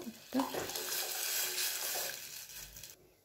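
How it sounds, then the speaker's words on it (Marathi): Besan (gram flour) mixture being stirred in a pan on a gas stove, a soft scraping and bubbling hiss that swells after a sharp initial knock and fades near the end. "आता पूर्ण असं हलवून टाकायचं, म्हणजे खाली बेसन पीठ बसलेलं"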